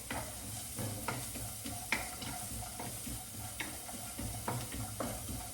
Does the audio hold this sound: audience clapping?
no